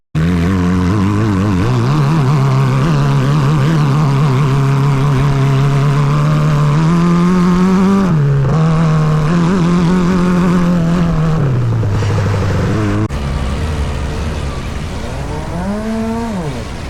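The small motor of a toy Formula One car runs with a steady, buzzing drone. Its pitch wavers and then drops near the end, loud and close throughout.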